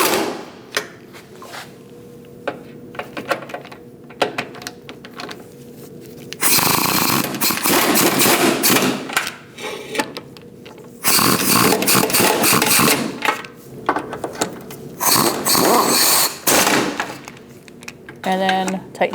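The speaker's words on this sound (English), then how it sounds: "We're going to tighten down all our nuts." A wrench ratchets and clicks while tightening nuts during a radiator install on a 2000–2006 Mini Cooper 1.6L, with quick rattling bursts alternating with quieter pauses.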